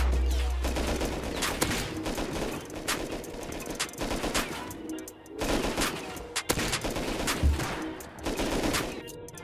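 Gunfire in the video game Rust during a base raid, with rapid automatic bursts and single shots cracking repeatedly across the whole stretch, loud and close.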